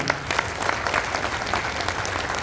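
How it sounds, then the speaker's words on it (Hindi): Loud, dense clapping from a crowd at a Gond community martyrdom-day gathering, continuous and close for the whole moment. "जरा जोरदार ताली बजा दो"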